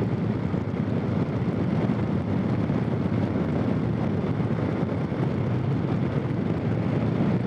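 A Harley-Davidson Softail Springer with an Evo engine is ridden on the road, its steady engine drone blending with heavy, constant wind rush at the microphone.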